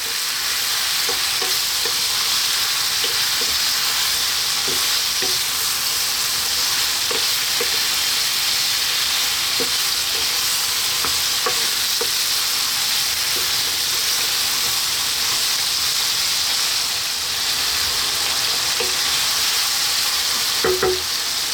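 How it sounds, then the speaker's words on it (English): A Greek lamb stew frying over medium heat in a pot gives a loud, steady sizzle throughout, with occasional light clinks and scrapes of stirring, close up and free of talk. "We're going to stay on this medium type heat for about another 4 minutes. Give it a little stir every now and then"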